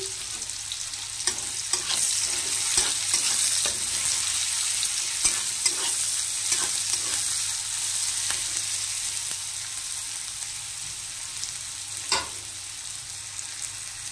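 Dry red chillies, panch phoron and chopped onion fry in hot tempering oil in a kadai, a continuous loud sizzle with frequent stirring scrapes and clacks of the spoon throughout, no voices.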